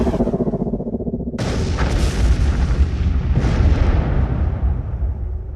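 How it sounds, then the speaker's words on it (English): A Star Trek photon torpedo fires, a sudden loud blast that bursts in after a low rumble, then a long roaring wash with a second surge and a slow fade, with no one speaking. "is going to fire a photon torpedo on the Gallo class"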